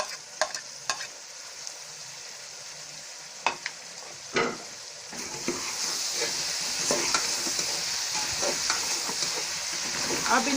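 Green chilies and tomatoes sizzle in a pan over a low flame for a tinda curry, with a few stirring clinks at first. The frying hiss grows steadier and fuller partway through, and no voices are heard.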